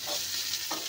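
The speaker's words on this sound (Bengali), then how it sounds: "এবার এই পটলগুলো সব দিয়ে দেবো এখানে, এটাকেও একটু ভেজে নেব" Pointed gourds sizzle in hot oil in a pan, a short, steady close-up hiss with no talking.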